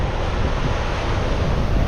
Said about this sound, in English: Wow, look at the waves on that.